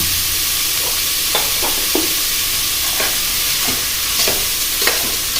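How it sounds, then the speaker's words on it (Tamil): Onions salted and frying in a pan, sizzling steadily up close while a spatula scrapes and taps through them at irregular moments. "இப்போ உப்பு போட்டாச்சு, கொஞ்சம் கிளறி விட்டுக்கோங்க"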